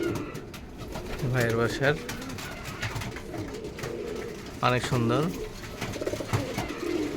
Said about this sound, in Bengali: মাশাল্লাহ এক জোড়া শালিটি কবুতর দেখছেন